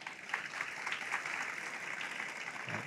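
Audience at a FEBRABAN TECH financial-sector conference panel applauds as speakers are introduced, a steady, dense clapping that holds evenly throughout without voices.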